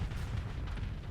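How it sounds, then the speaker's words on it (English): A salvo of missiles launching in the space combat game Starsector, a dense continuous rumble of low booms and bursts with no clear gaps, moderately loud throughout. "Let's fire a ton of missiles"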